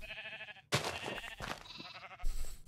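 Sheep in the Minecraft video game bleat several times in quick succession, loud and close, with the wavering calls overlapping one another.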